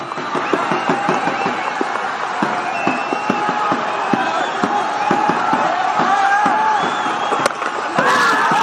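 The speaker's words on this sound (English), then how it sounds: "And that's what the crowd want, I think. They're screaming for it." A large cricket crowd at an EPL match between Chitwan Tigers and Biratnagar Warriors roars, screams and cheers continuously before the final delivery, a loud, dense wall of voices with whoops and rhythmic clapping and chanting pulses throughout.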